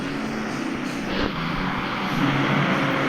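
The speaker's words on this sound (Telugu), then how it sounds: "ఒకసారి డ్రోన్ మోడ్ ఆన్ చేసి మైకేల్ హౌస్ ఇక్కడ నుంచి వ్యూ అయితే చూద్దాం." A steady mechanical whir of a drone flying in the video game Indian Bikes Driving 3D runs throughout, droning evenly with a slight rise in loudness toward the end, no voices.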